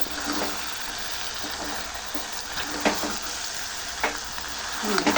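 Goat tripe curry with chili powder sizzles steadily in the pan while it is stirred. A few scrapes and clinks of the spoon rise from the close frying hiss.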